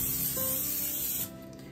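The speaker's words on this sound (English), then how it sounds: "I'm going to spray it," Cooking spray hisses in one steady, fairly close burst for about a second and a quarter over braided cheese bread dough, then cuts off, leaving quiet room tone.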